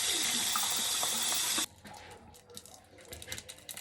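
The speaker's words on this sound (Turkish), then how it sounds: "Şimdi bardağımızı yıkayalım." A kitchen faucet runs loud and steady into the sink while a drinking glass is washed, then shuts off abruptly, leaving quiet clinks and handling of the glass.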